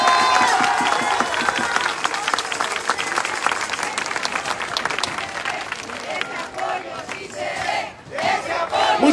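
A crowd at a campaign rally for local candidates in Tecámac cheers and applauds, loud clapping mixed with shouts and whoops that swell and fade, with voices calling out amid the noise.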